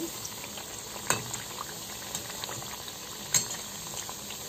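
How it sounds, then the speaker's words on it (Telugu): Thekua cookies frying in oil over a low flame, a quiet steady sizzle with a couple of brief clinks from a utensil against the pan. "హైలో ఫ్రై చేయకూడదు సిమ్లో పెట్టి ఫ్రై చేసుకుందాం"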